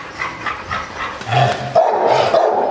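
A dog barks several times in a quick, uneven series close by and loud, with a rougher, growly bark toward the end during play with a toy.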